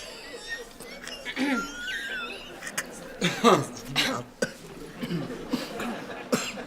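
A man coughs several times in short, irregular bursts amid speech and some laughter indoors, the coughs moderately loud and close.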